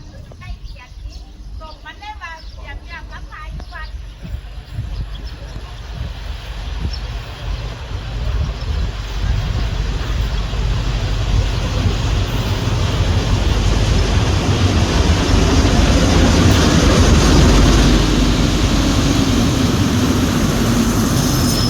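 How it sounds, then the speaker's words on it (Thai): An Alstom 4137 diesel locomotive hauls train 415 into Ban Haet station, its rumble building from faint to loud and steady as it nears, with a voice talking early on. "ขบวน 415นะกำลังจะเข้าจอดสถานีบ้านแฮด"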